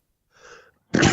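A single sneeze comes right after a soft intake of breath, close and sharp, with no other sound around it.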